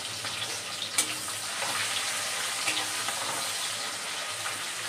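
Onions frying in hot oil for a Bengali katla fish dish, giving a steady close sizzle with a couple of sharp crackles and no voices.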